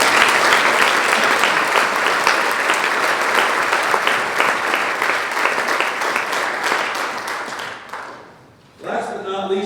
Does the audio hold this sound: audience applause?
yes